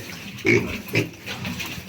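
Pigs on a farm, among them young females being kept as future sows, give a few low, moderately loud grunts at uneven intervals over a faint background rustle.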